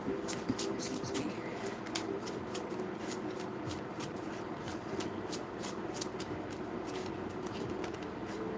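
Tarot cards are shuffled by hand in quick, riffling bursts of crisp flicks, close and fairly soft, with cards then drawn from the deck.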